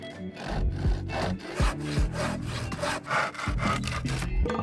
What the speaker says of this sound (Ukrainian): бралася зайва в господарстві дошка, і за допомогою пилки укорочувалася до потрібного розміру